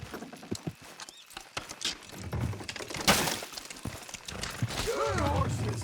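In the video game Red Dead Redemption 2, horse hooves clop and thud as horses pull something down with a rumbling, grinding pull, with a loud crash midway and some neighing toward the end, close and busy.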